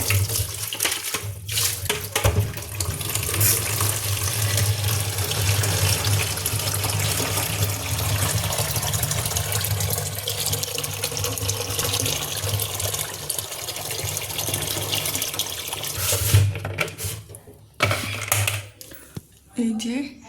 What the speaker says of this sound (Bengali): বালতিতে করে পানি নেব